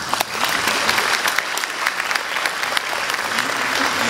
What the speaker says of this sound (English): I think you should give yourselves a round of applause for that.